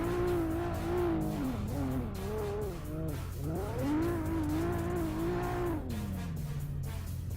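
A blue Nissan S14 drift car warming its tires at the start line of a drift qualifying round, engine revving hard in rising and falling sweeps with tire squeal, loud and close.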